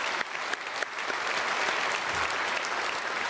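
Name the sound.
congregation applause welcoming a pastor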